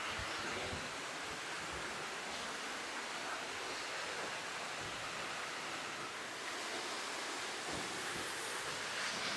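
Water from a dripping spring at Natural Falls State Park in Oklahoma pours out of rock as a constant, dense rushing hiss, steady and fairly loud with no voices.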